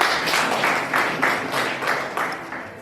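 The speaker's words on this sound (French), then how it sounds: "Merci, applaudissez encore une fois." An audience at a Burundian francophone language-week event applauds, its clapping swelling in rhythmic surges that are fairly loud and fill the room without pause.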